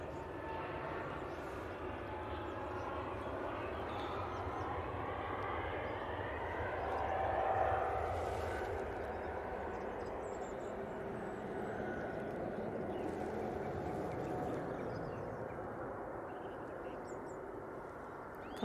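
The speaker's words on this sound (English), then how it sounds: "KLM A321 Neo going back off to Amsterdam." A KLM Airbus A321neo departing Manchester for Amsterdam, a moderate, steady jet engine roar at middle distance that swells slightly midway, with faint birdsong in the background.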